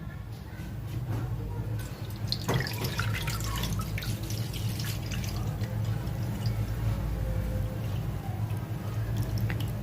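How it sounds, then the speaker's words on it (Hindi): Water poured into a container for a sulphur and potash alum experiment, a continuous splashing trickle with scattered drips, close and moderately loud, running steadily with no talk. "तो गाइस मैं ले रहा हूँ यहाँ पर पानी।"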